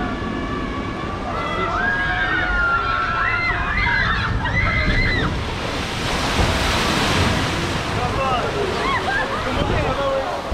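Boat on a water ride at Parc Astérix rushing through water: a broad surging splash builds midway under loud screams and shouts from riders, with excited voices throughout.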